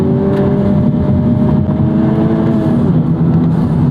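A 2021 Honda Civic Type R Limited Edition (FK8) is driven hard, its engine revving loudly and pulling up steadily in pitch through the gears from inside the cabin.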